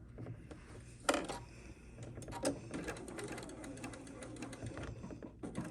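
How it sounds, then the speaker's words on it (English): A sewing machine runs in short bursts while stitching quilt block fabric with a quarter-inch seam and backstitch, near and moderately loud, with a few sharper clicks between runs. "A couple of stitches and then back stitch."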